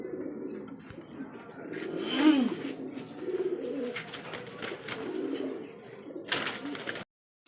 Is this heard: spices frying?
no